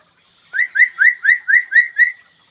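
A hill myna calls in a fast series of seven clear rising whistled notes, loud and close, with no talk over it.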